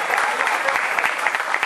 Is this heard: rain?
no